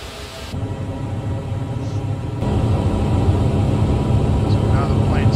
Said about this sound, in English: So now the plane's climbing.